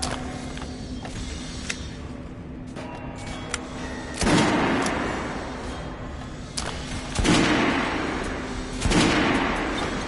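Gunfire on a shooting range in the video game Metro 2033, with broadband bursts around four, seven and nine seconds over a steady mechanical hum and sparse creaks and clicks, moderately loud and close.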